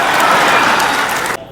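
An audience claps loudly after a speech, a dense wash of applause that holds steady and then cuts off abruptly near the end.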